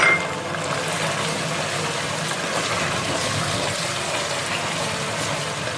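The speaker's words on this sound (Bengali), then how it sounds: "আমি মশলাগুলোর মধ্যে সামান্য একটু জল দিচ্ছি।" Water poured into spices in a cooking pan for chicken roast, a steady close hiss and gurgle running evenly throughout with no talk.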